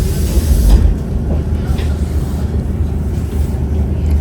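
Steady low rumble of a train in motion near Blackpool, a loud continuous mechanical drone with rattling, close by and without speech.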